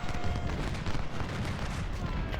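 Artillery fire from Ultimate General: Civil War rumbles through a dense, continuous wash of cannon and musket booms, with a voice talking over the battle throughout.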